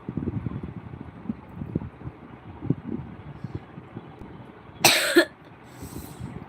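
A person with a common cold coughs in a short burst partway through, fairly close and a little harsh, against steady low background noise and murmur.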